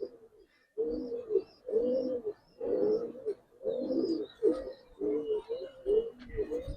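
A female pigeon coos in a run of soft, throaty phrases repeated in a steady rhythm, fairly close and alone.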